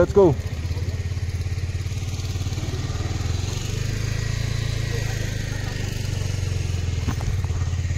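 A motorcycle engine drones steadily at riding speed on a ride to Tawang, loud and close, with a voice speaking over it at times.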